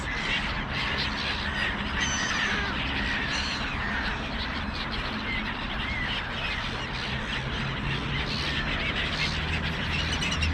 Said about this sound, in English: Got some crows up on the terrace.